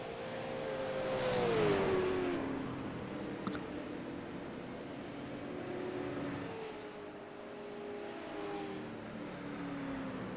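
A race car engine on the cool-down lap at Kentucky Speedway in a racing game: a moderate, droning engine tone rising and falling in pitch as the car eases along, with a second car faintly passing.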